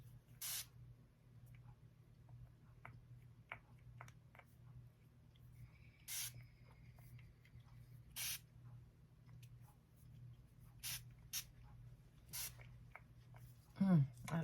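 Short hissing bursts of cool mist spray, several separate puffs spaced a second or two apart over a low background hum, close and fairly loud against the quiet.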